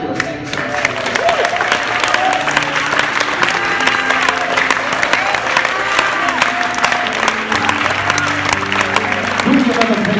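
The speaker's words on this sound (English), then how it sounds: "Do me a favor. Clap your hands." A church congregation at a Sunday service claps their hands together in a loud, dense, ongoing round, with voices and a few cheers mixed in throughout.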